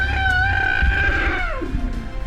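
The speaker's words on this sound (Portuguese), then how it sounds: "as pessoas ouvem o guincho de uma jovem elefanta" A young female elephant squealing in the bush after a lioness attack, a sustained high wavering cry that bends downward in pitch, heard over a constant low rumble of wind or vehicle noise.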